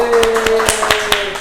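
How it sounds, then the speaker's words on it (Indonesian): A small classroom group claps for a student named Mas Ilyas, a short run of sparse, separate hand claps close by over a faint steady tone. "Boleh tepuk tangan untuk Mas Ilyas?"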